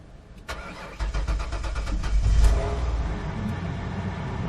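A Ford Freestar minivan with a 3.9L V6 cranks over and catches, the starter whirring before the engine fires with a loud rise, then settles into a steady, close idle.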